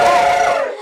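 Studio audience at an Indonesian talk show cheering and clapping in a loud, dense crowd roar that holds steady for under a second, then fades slightly toward the end.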